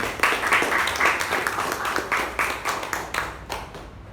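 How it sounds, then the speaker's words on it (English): A Toastmasters club audience gives a round of applause for its president, crisp clapping from a small crowd with audible individual claps, loud at first and gradually thinning out toward the end. "Please put together a massive round of applause for our president, Toastmaster Lalna."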